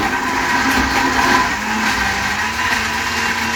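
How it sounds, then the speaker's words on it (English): A kitchen blender is running on frozen fruit and ginger for a smoothie, a loud continuous whirring motor drone that holds steady throughout, close by and alone. "now we got everything into the blender, and we just got to press a button"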